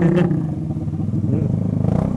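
Motorcycle engine revving moderately rather than hard during a New Year's Eve bombahan night, a steady close, loud throaty drone with repeated throttle blips and a brief clatter near the start.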